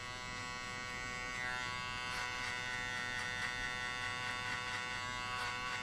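An electric hair clipper set to zero gap buzzes steadily through a low buzzcut fade, its motor drone continuous and close with slight rises as the blades move across the hair.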